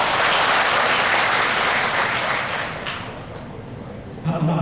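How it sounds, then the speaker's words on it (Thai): A seminar audience applauds a judge with a dense, even wash of clapping that tapers off after about three seconds into softer scattered claps. "ขอให้พวกเราปรบมือให้กับท่านพิพากษาหนึ่งครับ"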